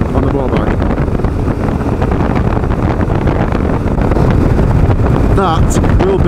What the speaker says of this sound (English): It's nice to come through on the bike, on the motorbike.